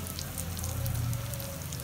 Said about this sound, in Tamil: இப்போ இந்த எண்ணெயில இதை நல்லா ஃப்ரை பண்ண விடலாம்